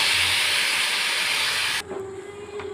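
Almonds, cashews and raisins roast in half a ladle of ghee in a pan, giving a steady, close sizzling hiss for about two seconds before it drops to a quieter hum.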